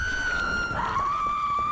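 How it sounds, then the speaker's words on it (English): A man screams in The Witcher 2 on Dark Mode difficulty: a single sustained, high, strained cry that holds steady at a fairly loud level throughout, with no other voices. "Why is he screaming so much?"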